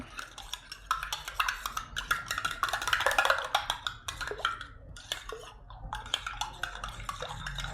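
A spoon stirs betel leaf, peppercorns and garlic in warm water in a glass, giving a run of quick, close metallic clinks and taps against the glass, with brief pauses.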